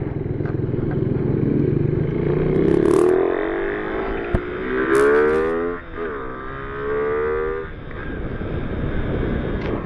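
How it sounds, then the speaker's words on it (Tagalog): Suzuki Raider 150 Fi motorcycle engine, freshly oil-changed, revving up in rising and falling bursts with a rough rasp, close and loud, with passing traffic noise around it. "Testing natin. Tapos na nag-change oil ang Raider natin, no?"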